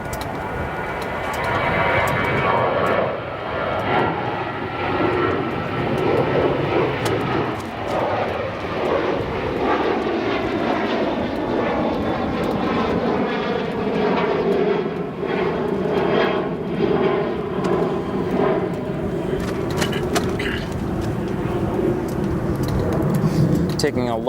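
British Airways Boeing 777-200ER airliner at O'Hare Airport, a steady broad engine roar running throughout at constant loudness, with a voice talking over it.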